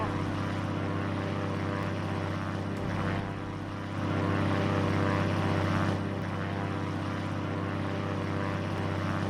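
A bomber plane's propeller engine in a Roblox flight game, a steady droning hum with a constant low pitch that holds for the whole stretch and swells slightly midway, with no talk over it.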